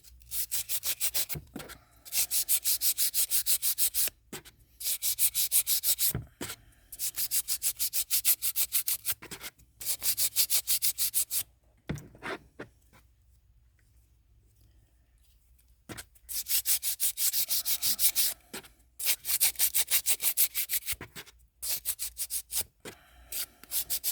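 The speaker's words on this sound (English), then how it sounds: "I am going to sand that down and try to get the majority of it off" Sandpaper rubs against a cast ceramic resin piece in repeated bursts of close, dry scratching, several strokes per burst with short gaps and a longer quiet pause in the middle.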